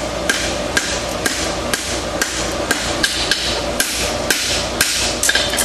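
Steel hammer blows flattening a bar horseshoe, a steady series of sharp, ringing strikes about every half second, close and loud with no talking.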